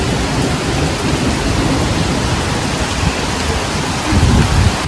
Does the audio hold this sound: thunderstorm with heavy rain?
yes